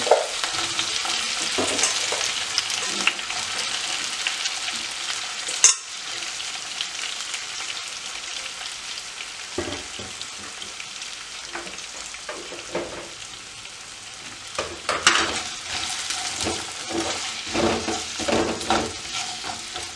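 Sliced okra fries in hot oil for a vendakkai paal curry, giving a continuous bright sizzle, with occasional louder bursts and scraping as the pieces are stirred in the pan.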